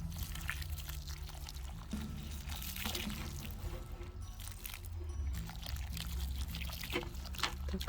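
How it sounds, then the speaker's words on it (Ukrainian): Liquid solution poured from a container into water for treating peony root rot, a steady continuous splashing trickle throughout, fairly close. "У мене тут 5, то половину я вилью сюди."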